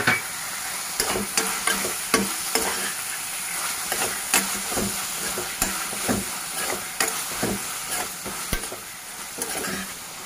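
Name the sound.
paneer kofta tomato-onion masala frying in a pan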